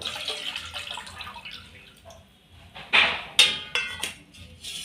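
Water splashes and trickles as it is poured out, with a few louder sloshing bursts near the end.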